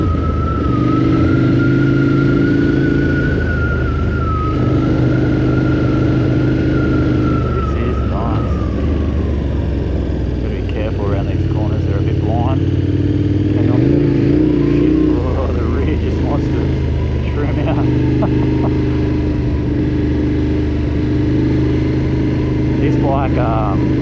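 A KTM 1290 Adventure R motorcycle engine idles and revs with a loud, rough, unmuffled exhaust note through an aftermarket exhaust with silencers removed, rising in several short bursts, close by.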